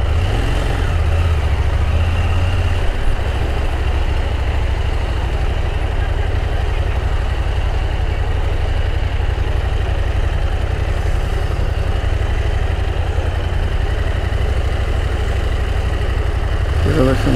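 A motorcycle engine idles steadily in town while the rider hunts for a parking spot, a constant low rumble that stays loud and unbroken across the whole stretch.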